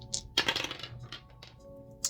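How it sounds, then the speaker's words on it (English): Dice rolled on a table during a tarot card reading make a quick scatter of light, sharp clicks and rattles, close and fairly quiet, with a final small tap. "Roll the dice."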